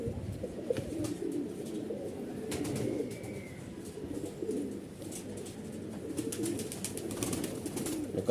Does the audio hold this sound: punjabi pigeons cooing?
yes